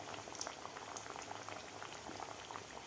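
Peas-stuffed matar kachori fry in oil over a medium flame, giving a quiet, even bubbling with small pops and no voices.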